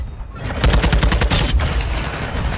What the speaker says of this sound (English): I can't stop shooting.